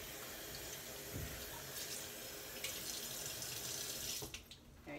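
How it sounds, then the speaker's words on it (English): Water runs steadily from a faucet to soak a paper towel inside a container used for sprouting alfalfa and mung beans, a continuous close splashing stream that cuts off near the end. "So let's soak the paper towel first with water."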